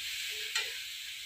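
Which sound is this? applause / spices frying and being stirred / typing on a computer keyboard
spices frying and being stirred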